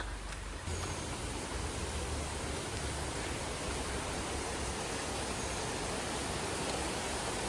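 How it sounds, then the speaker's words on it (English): Rushing water near a thermal lake in the Azores gives a broad, steady hiss that swells in after a brief quieter moment and continues unbroken. "There's supposed to be a big thermal lake somewhere, and I can hear water."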